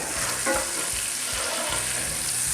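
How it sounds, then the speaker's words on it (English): Butter sizzles and crackles steadily in a hot black cast iron skillet, a close, continuous frying hiss with small pops throughout. "I love the sound of butter popping on this black iron skillet"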